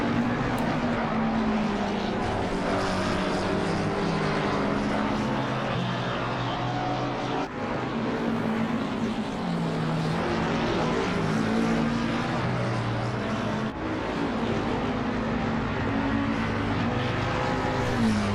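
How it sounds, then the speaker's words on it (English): Race cars, including a McLaren and a Ferrari, run continuously around the Laguna Seca circuit, their engines holding a steady loud drone with shifting tones as cars climb the hill. "Jake Wells continuing on up the hill to start yet another lap"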